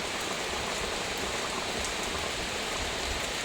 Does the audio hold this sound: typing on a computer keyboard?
no